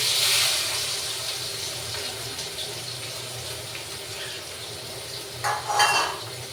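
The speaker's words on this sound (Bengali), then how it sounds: "এরপর এই যে তেলের উপর পেঁয়াজ দিয়ে দিচ্ছি" Onions frying in oil in a pan after potatoes have been fried, a continuous bright sizzle with a steady hiss and a short louder flare near the end, close by, no speech.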